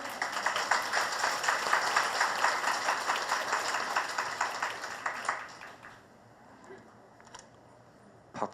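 A large audience at a Catholic retreat lecture claps in a dense burst of applause that holds steady for several seconds, then fades out abruptly into quiet room tone, with a brief voice at the very end.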